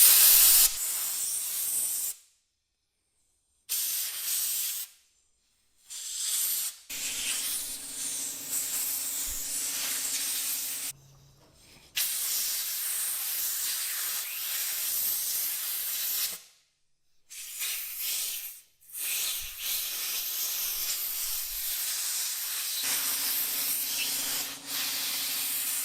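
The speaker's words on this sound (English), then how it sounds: "you can use an air compressor, the blower nozzle on the air compressor, to actually put some air up underneath these grips" An air compressor blower nozzle blasts air under ProTaper grips on a Yamaha MT-09/FZ-09 motorcycle: loud, close hissing bursts separated by brief silences, with a low hum in some stretches.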